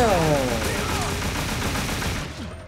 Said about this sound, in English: Damn, Tony, you just killed like 20 dudes